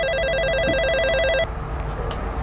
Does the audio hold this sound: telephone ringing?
yes